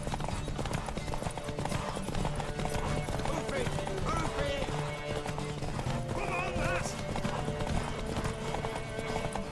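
Horse hooves clip-clopping steadily in Witcher 3 video game combat, with a whinny breaking through midway, loud and continuous under busy fight noise and a voice talking.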